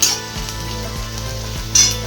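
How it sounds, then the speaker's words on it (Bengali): Chopped onion and garlic frying in a home pan, a soft continuous sizzle with a few light metallic clinks from stirring, close by and with no talking. "এক 2 মিনিট মতো পেঁয়াজটাকে ভেজে নিলাম।"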